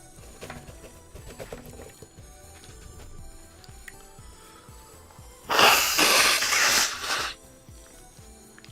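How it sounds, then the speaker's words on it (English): A single loud, close sneeze bursts out in a cold room, lasting under two seconds after a stretch of quiet background hum. "I sneeze when I get cold."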